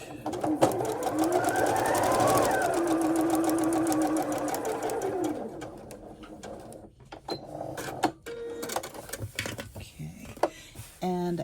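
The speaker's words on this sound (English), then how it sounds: "we will sew it" A sewing machine runs a long steady burst stitching quilt block seams, its rapid mechanical whir loud and close, then gives way to quieter clicks, handling and short stitching bursts.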